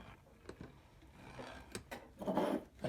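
Faint scraping, clicking and grinding sounds come from a 1930s PeDe coffee grinder as its burr setting is adjusted by hand, with scattered small knocks and a brief louder rasp near the end.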